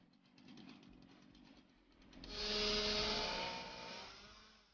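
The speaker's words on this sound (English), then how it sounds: "he creates his intricate sculptures using a chainsaw" A chainsaw carving a wooden owl sculpture idles quietly, then revs up into a loud, sustained whine before easing back down, with no voices present.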